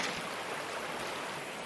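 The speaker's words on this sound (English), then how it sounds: "Just going to put this in the river to get water," A bucket dipped into river water in the video game Gold Rush: The Game gives a brief, steady wash of rushing, splashing water, faint and close, with no voices.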